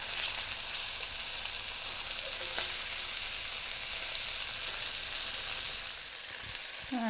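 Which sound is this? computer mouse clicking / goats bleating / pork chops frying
pork chops frying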